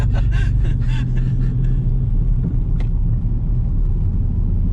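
A Cadillac CTS-V idling nearby with a deep, steady low rumble, while brief muffled voices come through in the first second or so.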